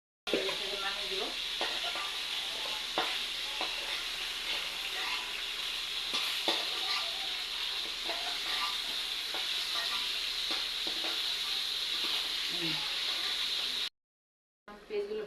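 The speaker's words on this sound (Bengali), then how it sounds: "পেঁয়াজগুলো ভাজু, মাছটি গুঁড়ো করার জন্য পেঁয়াজ দিয়ে দিলাম" Onions fry in a pan for a fish dish with a steady, loud sizzle and hiss, lightly stirred now and then, running continuously before cutting out briefly near the end.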